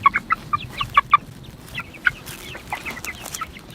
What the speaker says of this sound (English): Chickens on fresh grass.